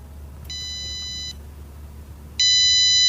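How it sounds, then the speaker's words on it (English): Two bursts of high electronic beeping from a JBL Sense Pro earbud's locator, the second louder and closer, over a low background hum. "They also have a Find My feature, Find My Buds. Let's see how loud they beep."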